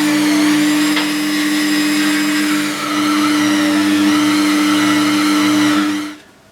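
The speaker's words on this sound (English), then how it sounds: "I've just got a felt bob on the end of the Dremel, a little bit of the polishing soap they come with" Dremel rotary tool with a felt bob and polishing soap buffing aluminium on a Hayabusa motorcycle part, a steady high-pitched whine that holds close and loud for about six seconds before winding down.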